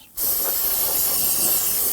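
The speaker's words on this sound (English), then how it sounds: "Now we're going to go ahead and use some spray solvent and compressed air to clean this." Steady, loud spray hiss of solvent and compressed air cleaning around the fuel pump module area of a 2003-2014 Volvo XC90 3.2L L6, starting abruptly after a brief quiet moment and continuing evenly throughout.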